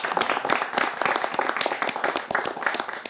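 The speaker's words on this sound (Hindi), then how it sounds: "ताली बजा सकते हैं।" A studio audience at a televised debate show claps together, giving a dense, continuous patter of handclaps at moderate loudness.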